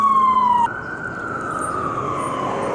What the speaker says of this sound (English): Hold on, this fucking ambulance.